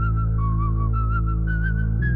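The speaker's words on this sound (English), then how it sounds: "So we got this long synth bass with this whistle." Whistled melody riding over a long, sustained synth bass in a song, the bright whistle gliding between notes loud and upfront against the steady low drone.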